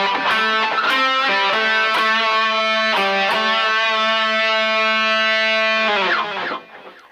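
A heavily distorted electric guitar plays a solo phrase, with loud sustained bent notes and quick picked runs that ring out and then cut off abruptly.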